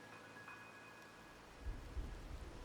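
Rain patters softly in a video game scene while low thunder rumbles in from a distance, swelling in the second half and staying faint overall.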